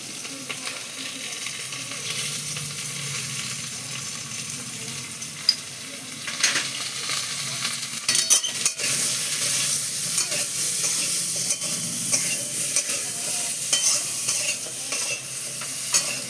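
Poppy seeds with turmeric and salt fry in a pan for bottle gourd greens, a steady broadband sizzle with scraping stir strokes, close and continuous with no talking.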